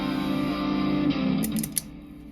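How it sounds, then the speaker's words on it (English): Sustained guitar notes through a LEKATO multi-effects pedal's large reverb, ringing out with a big, washy reverb tail, followed by a few bright high plucks near the end. "That's a pretty big reverb, so I'll put the mix down a little bit there."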